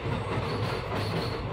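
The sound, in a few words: train arriving at the station at night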